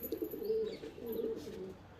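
Two Madras pigeons in a winter loft give soft, low cooing in two short rolling phrases, faint and close, with no voices over them.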